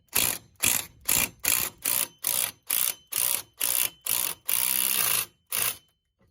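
A hand ratchet tightens a 10 mm bolt during a Brembo brake swap on a Dodge Charger RT. About ten quick, evenly paced bursts of clicking are followed by one longer steady run and a final short burst, close and clear.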